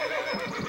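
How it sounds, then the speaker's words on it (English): A thirsty horse on a 1870s-style pioneer settlement whinnies in one brief, shrill, wavering neigh, close and fairly loud, with faint low thuds underneath. "The horses are thirsty."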